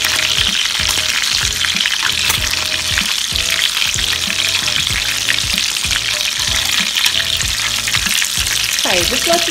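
Lamb chops sear fat side down in a hot pan, giving a loud, continuous sizzle and crackle, with rhythmic scraping of a utensil stirring or pressing against the pan.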